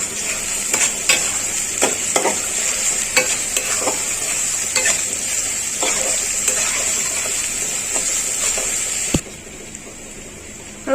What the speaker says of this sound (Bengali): তো পেঁয়াজটা একটু ভাজি হোক